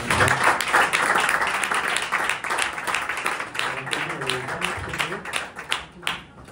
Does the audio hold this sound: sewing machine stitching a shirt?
no